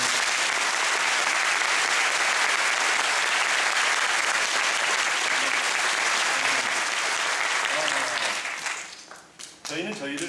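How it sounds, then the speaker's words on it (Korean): A theatre audience applauds at a musical's curtain call in a loud, sustained burst of clapping that fades out toward the end. "이들을 위해서 한번 박수로"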